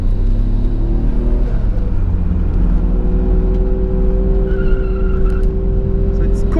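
A stock 1992 Nissan Skyline R32 GT-R on stock tires accelerates around Suzuka circuit, its engine droning loudly and steadily with rising tones from inside the car and a faint tire squeal.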